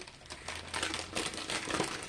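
Diamond painting cover paper crinkles and rustles in a steady, close handling sound for about two seconds, fairly quiet with no voices.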